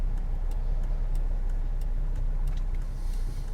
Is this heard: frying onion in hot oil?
no